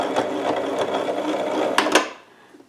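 Sewing machine running steadily while stitching along the seam of a quilted potholder, a dense continuous whir that cuts off near the end, leaving quiet.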